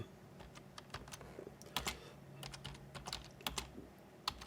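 A file name is typed on a computer keyboard with a quiet, irregular patter of close key clicks, a few sharper taps standing out, with no talking.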